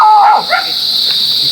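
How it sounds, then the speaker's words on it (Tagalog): Pet dogs outdoors near a river in a rural area give a quick bark or two at the start, then a steady high insect drone continues alone. "Maraming alagang aso."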